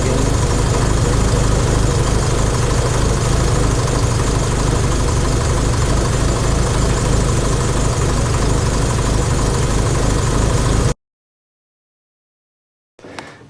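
A car engine idles loudly and steadily with a low rumbling hum, cuts to silence near the end, then briefly returns.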